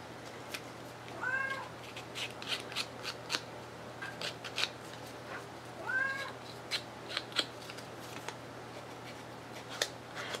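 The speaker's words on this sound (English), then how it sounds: "You're going to have all the cats in YouTube land looking for you, Jules." A cat meows twice indoors, two clear cries several seconds apart, over steady background hum and intermittent crisp snips and paper rustling from ephemera crafting work.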